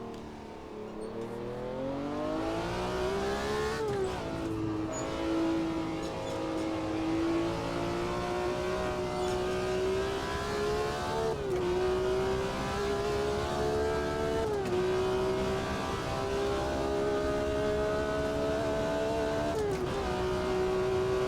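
A car braking hard and accelerating on the Nürburgring near Schaferkopf. Its engine drones loudly and continuously, with pitch climbing through the revs and dropping sharply at several gear changes. No talking is heard.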